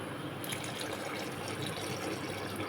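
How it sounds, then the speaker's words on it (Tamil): Lentil cooking water poured into a pot of rasam, a steady close liquid pour and splash that continues without pause and without speech. "இப்போ வந்து நம்ம பருப்பு தண்ணி விட்றோம்."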